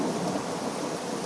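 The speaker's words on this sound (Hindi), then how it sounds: "बाहर कितनी अच्छी बारिश हो रही है।" Heavy rain pours in a dense, continuous hiss with a low rumbling undertone of thunder, loud and close for just over a second, with no voices.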